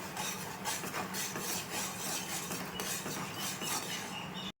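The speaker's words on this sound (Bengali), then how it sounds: "অনবরত নাড়বো।" A utensil scrapes and rubs steadily around a pan of bubbling sugar syrup with cardamom, a continuous rasping stir with faint clinks, close and moderately loud, cutting off abruptly at the end.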